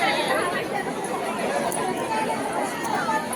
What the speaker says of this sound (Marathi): किती गर्दी आहे बघताय